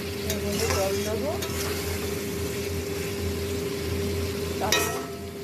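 Chili and cumin powder sautéing in a pan for a fish curry, a steady sizzle with scraping stir strokes near the start and a louder scrape near the end, held over a constant low hum.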